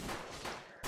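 Beam launcher weapon firing in Roblox Zombie Attack, a quick burst of loud, close synthetic blasts packed into under a second, with a sharp final shot at the end.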